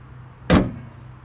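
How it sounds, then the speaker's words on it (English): A single heavy thump as the hood of a 2009 Chevrolet Cobalt SS Turbo slams shut, loud and close, with a quiet low hum before and after. "Let's shut this hood."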